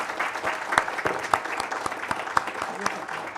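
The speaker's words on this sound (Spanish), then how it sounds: "Un aplauso." An audience claps steadily for a few seconds, a dense patter of many hands with a few sharper claps standing out.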